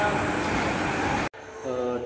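The Mandavi Express rumbles along the rails near Thane in a dense, loud roar that cuts off abruptly, then returns as a quieter hum with tonal ringing.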